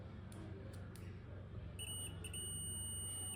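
A budget digital multimeter sounds a continuity-test beep, a steady high electronic tone that starts partway through and holds to the end above a low background hum.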